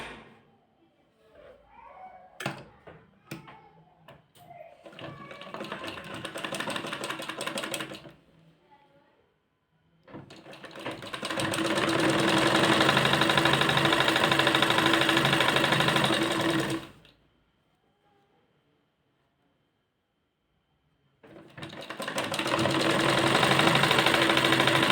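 A sewing machine stitches ribbon onto fabric for a blouse tassel in fast, rattling bursts, with a long run, a pause, then another run, after a few sharp handling clicks and faint movement at the start.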